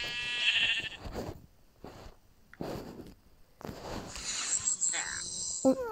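Minecraft sheep bleat in several short wavering calls spread across the clip, moderately loud and close, with a voice talking briefly between them and a high electronic chime near the end.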